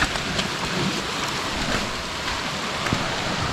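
Steady rain falls in the Amazon rainforest, a dense continuous hiss with scattered drop impacts, fairly loud and even throughout with no voices.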